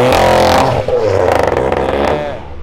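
A sports car accelerates away from a car meet, its engine revving loudly up through the gears with a harmonic roar, near and dominant, easing as it pulls off.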